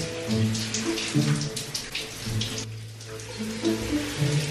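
Shower water runs steadily in a home bathroom while it warms up, a continuous splashing hiss close by with a faint tonal hum underneath and no talking.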